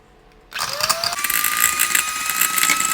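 An electric hand beater starts up abruptly and runs steadily, mixing cake batter with sugar and chocolate, a loud whirring motor whine with gritty rattling throughout and no talk.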